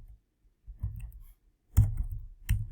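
Computer keyboard keys clicking in a few short bursts of typing, close and fairly loud, with quiet pauses between the groups of keystrokes.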